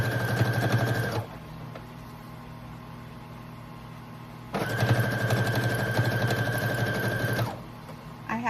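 A sewing machine stitches a denim bag inside out in two sustained bursts of rapid, whirring needle action, the first about a second long and the second about three seconds, separated by a quiet pause.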